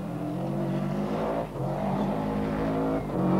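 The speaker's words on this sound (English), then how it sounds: "The rally leader approaches the McClafferty clan's property at high speed" A rally car on the 1992 Donegal International Rally closes in at high speed past a rural property, its engine a loud, steady roar with a brief dip midway before it swells again.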